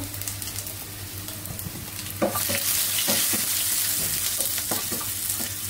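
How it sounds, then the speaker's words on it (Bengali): Leafy greens fry in a pan with a constant sizzle that grows louder midway, overlaid by repeated spatula strokes scraping and tossing them at an uneven pace. "আর এদিকে শাক ভাজিটা ফ্রাই হওয়ার দিকে"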